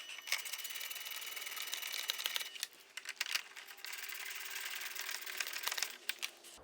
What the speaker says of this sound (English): get our long 8mm bolts and we can tighten up these plastic trims